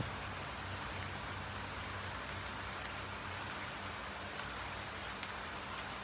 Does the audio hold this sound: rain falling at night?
yes